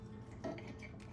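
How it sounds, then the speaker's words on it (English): Fork and knife work at a steak on a plate, giving faint scrapes and a soft clink of metal on the dish, quiet and close. "cutting it, moving the steak around with my fork"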